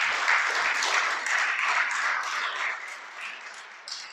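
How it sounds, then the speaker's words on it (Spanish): Church congregation applauding for the Creator during a Spanish-language sermon, a steady wash of clapping that fades gradually, moderately distant and without talk over it. "Dale un aplauso al Creador."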